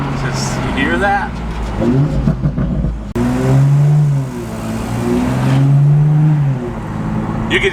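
A Toyota Supra fitted with a new downpipe accelerates hard, engine rising in pitch through gear pulls with a loud raspy drone, heard from inside the car in traffic while people talk over it.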